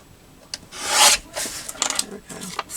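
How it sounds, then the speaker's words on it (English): A small paper trimmer cuts paper for a handmade journal, giving a rasping slide of the blade through the sheet with a louder swipe near the middle and a few light taps and rustles after. "Oh, I should trim it off. My little trimmer here."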